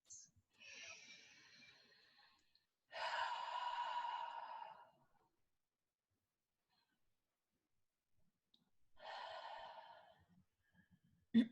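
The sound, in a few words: taking three deep breaths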